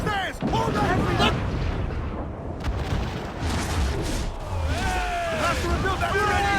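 Ship cannons firing in a naval battle video game, deep booms and rumbling blasts laid over a busy battle din, with voices shouting throughout.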